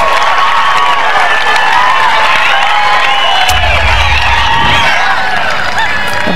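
Large golf gallery at the Solheim Cup singles cheering and applauding loudly, a dense roar of whoops, shouts and clapping that stays strong throughout, with a low thump partway through.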